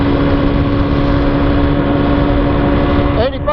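A Husqvarna TE250 motorcycle engine cruises near 60 mph at around 9,000 RPM, a loud, steady, close-up drone with rushing wind that barely varies, then dips slightly at the very end.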